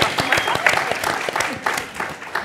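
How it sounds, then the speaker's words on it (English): Audience applause rings out at a live panel event on counselling and psychotherapy at the University of Adelaide, a steady, dense patter of clapping lasting a couple of seconds with some voices mixed in. "Big round of applause for everybody."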